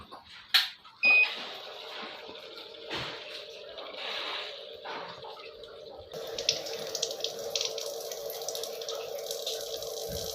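Water flushes through the alkalizer filter pipe of a Livpure Envy alkaline RO water purifier, a steady gushing stream into a sink after a few clicks and clunks at the start, growing brighter partway through, close and continuous.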